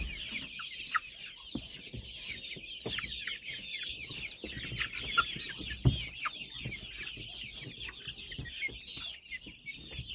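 Many small chicks and chickens cheep and cluck continuously up close at night in a farmyard, a busy high-pitched chatter with scattered soft knocks and scratching.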